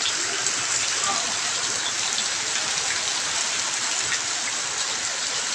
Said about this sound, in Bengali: আজকে এমন বৃষ্টি নামতেছে, ঝড় তুফান আসতেছে